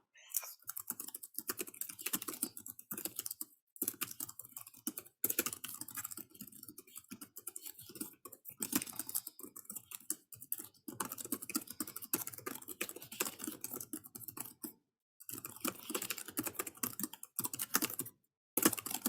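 Steady typing on a computer keyboard, with rapid quiet key clicks in bursts broken by short pauses, close and faint.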